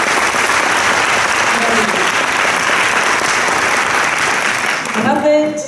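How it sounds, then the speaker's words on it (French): Audience applause for Rokhaya Diallo at a talk on communication and living together, a steady dense round of clapping filling the room before tapering off, with a voice starting to speak at the very end. "un peu d'applaudissements pour notre Rokhaya"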